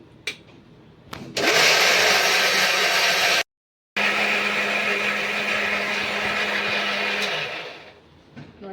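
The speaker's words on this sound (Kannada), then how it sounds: "ಈಗ ಬರ್ರಂತಿಗೆ ಪಟಪಟ ಪೀಸ್ಕೊತೀನಿ" An electric mixer grinds a wet masala of coconut, tomato, onion, mint and coriander. The loud, close motor whirrs in two bursts split by a short stop, then winds down at the end.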